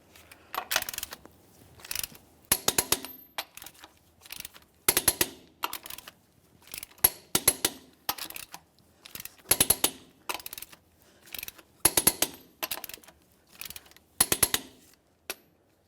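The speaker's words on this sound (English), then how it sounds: "We'll be torquing these in a crisscross manner." A torque wrench tightens the lug nuts on a 1999-2006 Chevrolet Silverado 1500 wheel in a crisscross pattern, giving sharp metallic clicks in short bursts that repeat about every second and a half, with no talk.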